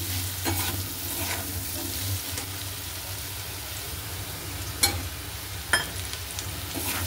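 Potato pieces fry with salt and turmeric in a pan, giving a steady, close sizzle under continuous stirring, with a couple of sharper scrapes of the spoon against the pan.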